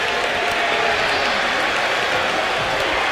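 A video game crowd roars and applauds steadily throughout a WWE 2K25 wrestling match between Randy Orton and Roman Reigns, a dense continuous wall of cheering with no pauses.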